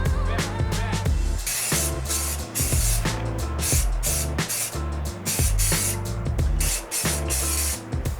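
Aerosol spray paint hissing onto a car wheel during a repeat coat, steady and close, broken by short pauses, with background music throughout.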